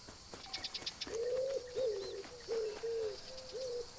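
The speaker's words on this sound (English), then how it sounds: "These are the normal common doves. Caluba plampus. Common wood pigeon." A common wood pigeon coos in the video game Alba: A Wildlife Adventure, giving four low, hooting phrases in steady rhythm, with brief chirps from other birds before them.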